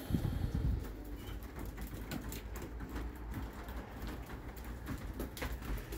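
Soft pigeon coos repeat inside a loft against a steady patter like light rain, with faint rustling throughout, moderately quiet and with no talking.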